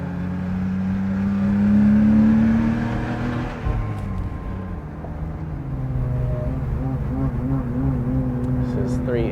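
A car accelerates hard at Sonoma Raceway beside a Porsche GT3, the engine rising then dropping on a shift and building again, loud and close from inside, with a voice talking throughout.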